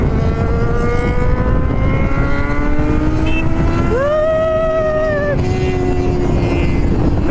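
Motorbikes, including a Honda CBR 600 and a 390, ride together. A loud, steady engine drone rises in pitch as one machine revs hard, holds a high whining tone, then drops back.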